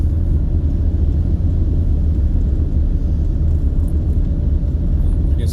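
Steady road rumble from a semi truck cruising on a scenic road, a constant low drone of engine and tires heard close up from inside the cab, with no talk.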